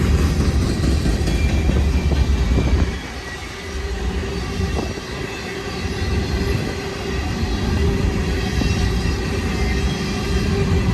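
A Union Pacific mixed freight train rolls steadily past at Cajon summit, with a loud, continuous rumble of wheels and cars close by and no talk.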